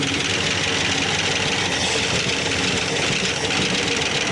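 A 1970 Dodge Charger engine that sat for 20 years idles loudly and roughly with a misfiring back cylinder, a dense continuous rumble with uneven knocking pulses and no talk.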